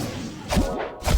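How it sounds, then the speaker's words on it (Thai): A few dull thumps and knocks from a cat playing somewhere in the room, irregular and moderately loud, with a faint steady hum underneath. "นั่นก็เสียงแมวผมว่าแมวผมมันเล่นอะไรของมันก็ไม่รู้"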